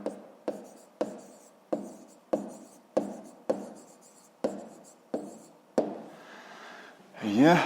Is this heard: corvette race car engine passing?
no